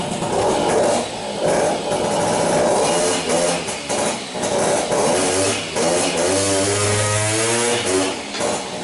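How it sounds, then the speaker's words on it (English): A Peugeot Fox Deluxe 50cc moped, smoky and poorly jetted, idles with a buzzy two-stroke drone, then revs up and down in rising and falling sweeps, close and loud with no speech. "Give it a little more throttle."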